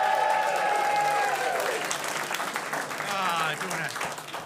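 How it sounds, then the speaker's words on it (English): A comedy club audience on a Saturday night applauds the MC, a broad wash of clapping and crowd noise with a voice talking over it. "more applause for your MC,"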